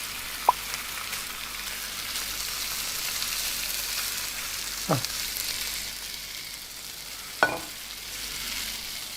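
Food sizzling and burning in a pan on a stove in the Cooking Simulator video game, a steady frying hiss throughout with a few brief clinks and knocks on top.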